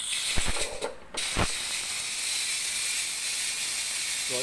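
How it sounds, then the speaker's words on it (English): A pressure cooker holding chicken stock vents steam in a steady, loud, continuous hiss after a few clicks and clatters at the start. "The stock is completed in the pressure cooker, so I'm gonna release the pressure right now before I can open it."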